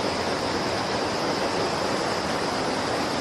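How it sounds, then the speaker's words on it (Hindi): Steady, dense rush of water pouring into a river in the Kamsyar valley near Kapuri village, a constant broadband roar with no pauses, close and loud. "सामने ये पानी फिर नदी में चला जाता है।"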